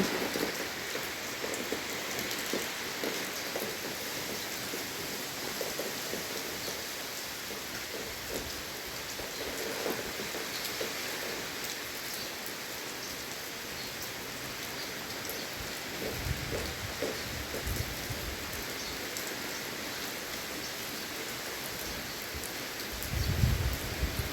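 Steady, heavy rain pours down in a constant hiss, with drops pattering on surfaces and a faint low rumble near the end.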